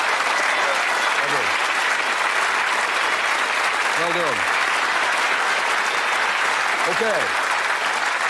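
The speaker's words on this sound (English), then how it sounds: "Give me a round of applause." A television game-show studio audience on Bullseye applauds loudly and without a break, while someone speaks briefly over the clapping.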